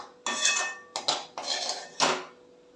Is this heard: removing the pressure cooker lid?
yes